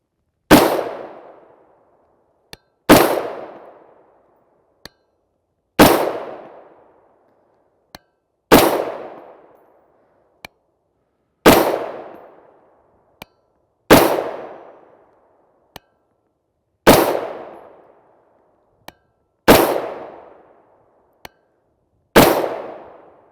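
Shots from a 10.5 inch short-barreled 5.56x45mm rifle with a three-port muzzle brake, nine sharp cracks spaced evenly a few seconds apart, each with a brief decaying tail and a faint click between shots.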